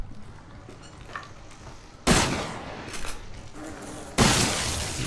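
Two loud, sharp gunshot blasts in Resident Evil 7, each followed by a trailing crackle and rumble, separated by a couple of seconds.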